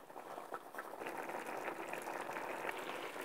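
Couscous and water boiling in a pot on the stove, a soft steady bubbling hiss with small irregular pops, quiet and close, with no talk over it.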